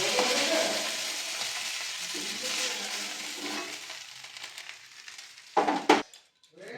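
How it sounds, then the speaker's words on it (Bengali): A fish head fries in oil for a cauliflower fish curry, a loud close sizzle that fades gradually, ending with a couple of sharp scraping clatters of a utensil against the pan and then quiet. "এবার এই মাছের মাথাটা ভেজে নেব"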